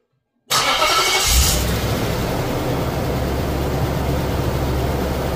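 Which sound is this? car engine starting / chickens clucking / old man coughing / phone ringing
car engine starting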